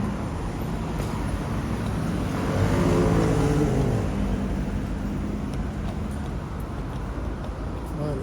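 A London number 94 bus idles and moves in heavy traffic on a busy roadway, its engine rumble swelling briefly midway amid steady continuous road noise, with faint voices nearby.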